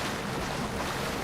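Rushing water from a waterfall in the fantasy game Avowed forms a dense, steady broadband roar, loud and continuous, with no voices.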